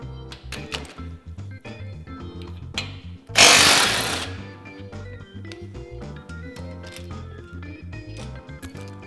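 Power tool, likely an impact wrench, loosening radius arm bolts on a Polaris RZR XP Turbo bearing carrier; a loud burst of about a second near the middle stands out above steady clattering background noise.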